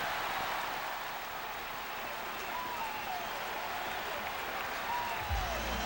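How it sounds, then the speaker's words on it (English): A baseball crowd at Shea Stadium during the 2000 World Series applauds in a steady, distant wash of clapping and crowd noise. A faint voice or whistle drifts over it. "Clear from the applause."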